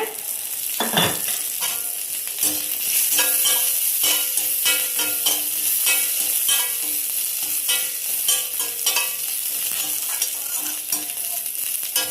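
Onions sauté in a pan for peanut chutney, giving a steady close frying sizzle with repeated scraping and clinking strokes of a stirring spoon throughout.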